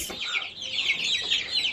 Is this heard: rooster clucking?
yes